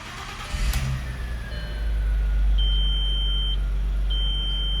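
A broken Audi S4 needing a new engine cranks and fires up, then settles into a loud, steady idle, while a dashboard warning chime beeps repeatedly nearby.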